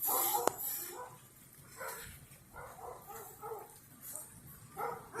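A dog barks repeatedly outdoors at a moderate distance, short excited barks and yips in an uneven rhythm, heard over faint background noise after a yard was hit by wind damage.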